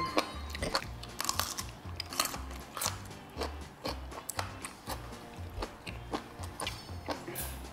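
Grilled jellyfish skewers chewed up close in a rhythmic series of crisp, crunchy bites, with faint low speech in the background.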